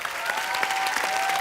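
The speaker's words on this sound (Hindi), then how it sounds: "इनके लिए जोरदार तालियां" Studio audience applauding on a Hindi TV comedy talk show, a dense, loud wash of clapping that stays steady throughout, with a faint sustained tone running under it.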